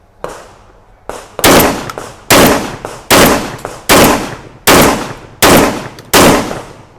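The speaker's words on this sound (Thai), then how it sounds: "ทดสอบตัวปืนกระบอกนี้นะครับ โดยการยิงท่าฮิป" Seven loud, sharp blasts from a Mossberg 940 Pro Tactical semi-automatic shotgun fired from the hip, coming at a steady pace with about a second between each and a short ringing tail after every shot.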